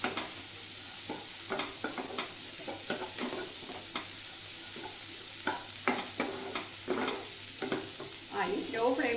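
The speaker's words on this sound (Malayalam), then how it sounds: "ഇത് നല്ലപോലെ ഒന്ന് മിക്സ് ചെയ്തിട്ട് നമുക്കൊന്ന് കുക്ക് ചെയ്തെടുക്കണം." Cauliflower and onion stirred and cooking in a pan, a low steady sizzle under repeated scraping and tapping of a spoon against the pan, close up with no speech.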